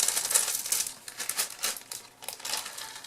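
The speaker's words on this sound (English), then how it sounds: "Plastic bags, because you can never have too many of those." Plastic bags crinkle and rustle while a board game is unpacked, a busy, close, continuous crackling of soft plastic with no speech.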